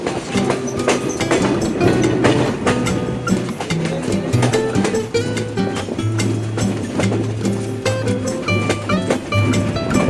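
An intercity Rupsha Express train runs steadily along the rails with a continuous rhythmic clickety-clack of wheels over rail joints and a constant rumble, heard from on board.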